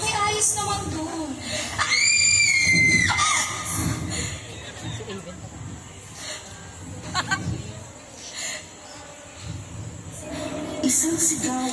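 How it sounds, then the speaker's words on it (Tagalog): A scream rings out during a staged murder-mystery play, a sustained high shriek of a couple of seconds, loud against an audience murmur and shuffling, with voices and crowd noise continuing afterward. "Isang sigaw ang humuko sa atensyon ng lahat."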